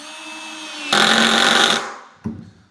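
A VAP cordless screwdriver, set to speed 1 and torque 1, whines softly, then runs in a loud, steady buzzing burst for about a second and stops. A short clatter follows.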